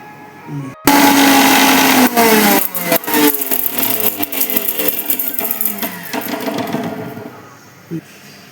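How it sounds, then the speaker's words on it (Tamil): A mixer grinder grinds black urad dal, copra and palm jaggery. It starts abruptly with a loud, steady whirring drone and rattling churn that runs continuously, then eases toward the end. "மிக்சியில் போட்டு மாவு செஞ்சுக்கலாம் நான் செஞ்சுட்டு உங்களுக்கு காமிக்கிறேனுங்க"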